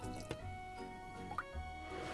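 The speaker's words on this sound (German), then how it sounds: "jetzt natürlich noch unsere Flüssigkeit dazu, also das lauwarme Wasser mit der Hefe" Lukewarm water with dissolved yeast poured slowly over flour for pizza dough, giving soft close dripping and wet squishing sounds with a few small splashes.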